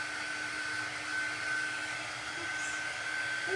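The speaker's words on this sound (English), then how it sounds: "I'm going to hit it with the air dryer real quick" A hair dryer blows air over chalk in a steady, even whir with a constant motor hum, moderately loud and close, running alone without talk.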